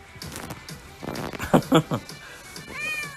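A cat meows a few times close by, short insistent calls rising above quiet background noise.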